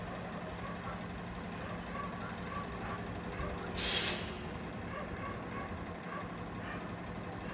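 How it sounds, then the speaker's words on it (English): A local city bus in New Haven rumbles steadily through the street, its engine droning, with a short hiss of air brakes near the middle. "here's the local city bus taking everyone into downtown, the Elm City, New Haven"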